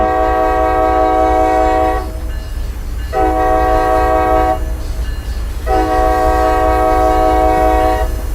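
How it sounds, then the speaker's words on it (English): Commuter train horn in the MBTA Boston Train Sim World 5 game sounds three loud sustained honks, the first and last longer and a short middle blast, over a steady rumbling engine drone. "we'll do a couple honks of the horn now that we're clear of the station"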